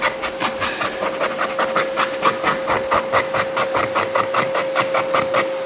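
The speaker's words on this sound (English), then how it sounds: "I keep this in my pocket, just kind of scrape that off" A pocket knife scrapes pad glue off a hardwood floor in quick, steady strokes, a dry rasping rhythm repeating close up with no talking, a faint constant hum underneath.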